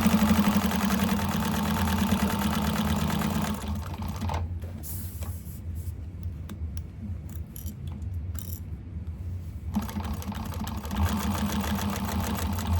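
Sewing machine back-stitching a raw-edge leather wallet, a steady close mechanical whir that runs for a few seconds, drops to quieter clicking and rustle, then resumes running near the end.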